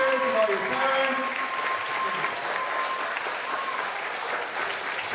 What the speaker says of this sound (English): Let's give a round of applause for Principal Walker and all your teachers and all your parents